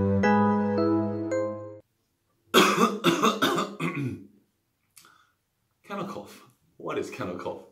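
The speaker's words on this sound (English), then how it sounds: "That wasn't kennel cough, that was just me clearing my throat" A person clears their throat several times in short, rough bursts close by, following a sustained tonal passage at the start.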